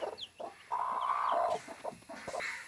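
Hens with their chicks cluck quietly, with a longer drawn-out cluck in the middle, scattered short clucks around it and faint high chick peeps, all fairly soft and close.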